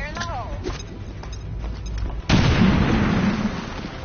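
A grenade explodes in XCOM 2 with a sudden heavy blast midway through, followed by a sustained rumbling roar. Scattered pops and game sounds come before it, and a voice speaks early on.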